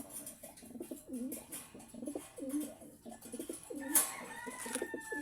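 Pigeons kept as breeding stock coo in a soft, repeated rhythmic series of low throaty calls, fairly close and quiet, with a brief sharp sound near the end.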